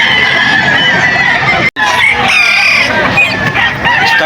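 Stag roosters at the Bocaue, Bulacan chicken market: loud, close crowing and clucking from several birds overlapping, with a brief cut partway through and market bustle behind.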